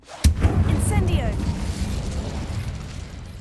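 In Hogwarts Legacy, an Incendio fire spell bursts with a sharp, loud crack, then rolls into a deep rumbling whoosh of flame that slowly fades over a few seconds.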